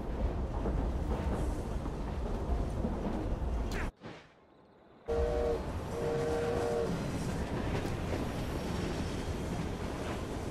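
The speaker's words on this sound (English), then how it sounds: "Well, it's a noisy train." Rumbling, clattering train from Assassin's Creed Syndicate runs steadily and loud, drops to near silence for about a second, then resumes, with faint tonal squeals or whistle-like tones rising briefly mid-clip.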